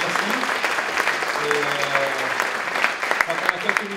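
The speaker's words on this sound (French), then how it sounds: "Je vous demande d'applaudir pour remercier Alain Pétoni" Applause from a conference audience at an e-commerce trade fair in Lausanne, thanking the speakers. The clapping is steady and moderately loud throughout, with a few sharper individual claps near the end and a faint voice underneath.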